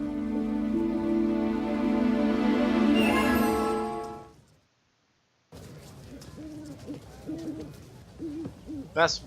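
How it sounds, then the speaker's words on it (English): An owl hoots a few times in a wizarding shop, after a sustained tonal passage fades to silence; the hoots are soft and spaced, with other faint background sounds. "you can find a wonderful selection of owls to choose from."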